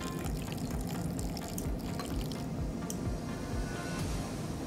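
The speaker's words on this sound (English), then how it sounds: "we're gonna add 5 ounces of fresh orange juice" Fresh orange juice is poured into a vodka cocktail, a soft, continuous liquid trickle and splash heard close but faint, with no talk.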